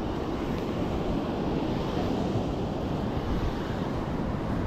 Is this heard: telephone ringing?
no